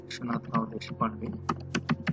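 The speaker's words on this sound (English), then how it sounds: "Now in the organization sector, you can just type Vishwanath Rao Deshpande" Quick, uneven keystrokes clatter on a computer keyboard close by as a name is entered into a membership form, with a quiet voice partly underneath.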